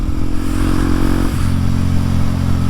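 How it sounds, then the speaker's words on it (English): A Kawasaki KLX 230 motorcycle rides along a road with a steady, loud engine drone and wind rush, the pitch dipping briefly as the rider shifts before holding steady again. "from the shadow, peeks the light of a Kawasaki KlX 230"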